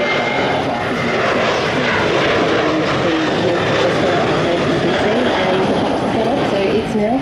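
An airshow aircraft makes a slow dirty pass at Avalon with flaps and landing gear down, its engines roaring loudly and steadily overhead while people talk beneath the noise.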